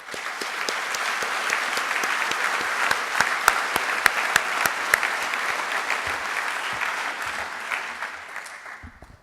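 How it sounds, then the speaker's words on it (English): A graduation audience at a firefighter academy commencement applauds, dense steady clapping with some sharper individual claps that keeps going for several seconds and then tails off, with no talking over it. "I give you and us a round of applause"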